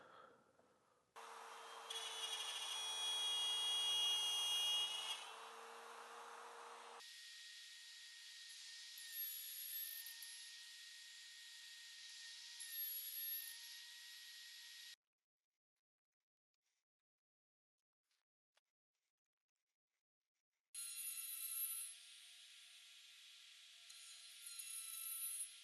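Router fitted with an M.POWER CRB7 base cutting a mortise in wood, a loud high whine that shifts pitch and tone in long sustained passes, stops for several seconds of near silence, then resumes.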